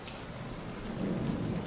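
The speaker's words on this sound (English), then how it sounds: "sit in there for a bit and let the rain pass" Rain falls steadily outside a cliff pool villa at the Anantara Al Jabal Al Akhdar resort in Oman, with a low thunder rumble swelling under the downpour in a brief, close stretch.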